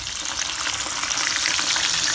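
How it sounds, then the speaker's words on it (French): Floured fish frying in hot oil, producing a loud, dense, continuous crackling sizzle that holds steady throughout, close and without voices. "on va venir plonger notre poisson dans l'huile"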